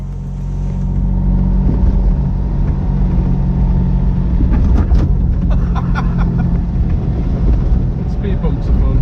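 A 1967 Fiat 500 on the move, its small engine giving a steady, loud low drone with road rumble through the whole stretch and a few faint clicks and rattles in the middle.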